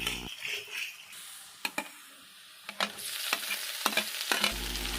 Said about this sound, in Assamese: পিঁয়াজখিনি ভালকৈ মই ভাজি ল'ম।